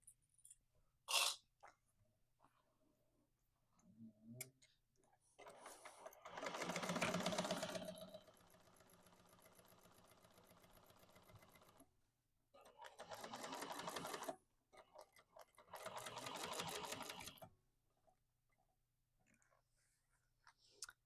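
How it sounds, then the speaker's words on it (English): Sewing machine running a row of strengthening stitches on a tote bag, three separate bursts of rapid mechanical clatter, the first short and the others longer, with quiet pauses and brief speech between them. "I'm just going to go ahead and do another row of strengthening stitches"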